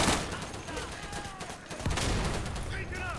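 Rapid gunfire from a shooter video game rattles through a dense game soundscape, bursts overlapping with a louder stretch in the second half, while a voice talks over it.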